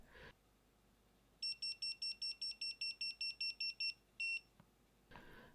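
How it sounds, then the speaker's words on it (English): A sharp high-pitched electronic beep from a Kaiweets KTS02 voltage tester in non-contact voltage mode, repeating rapidly in a steady rhythm for a few seconds, a brief pause, then two more beeps; quiet background otherwise. "It shows a V and beeps if it detects any voltage."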